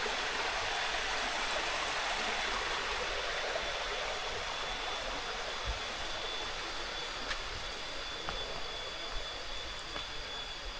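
A river in a forest near a rocky crossing, rushing steadily over large boulders as a loud, continuous broadband roar with no pauses and no voices.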